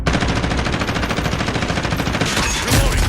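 Rapid, evenly spaced automatic weapon fire from a shooter video game rattles on loud and continuous for the whole stretch, with a brief change in texture near the end.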